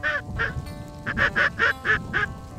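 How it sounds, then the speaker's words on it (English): Ducks quacking in a field during a duck hunt, a rapid series of about seven nasal quacks in an uneven rhythm, fairly close and clear over low background rumble. "Five low ducks, six low ducks."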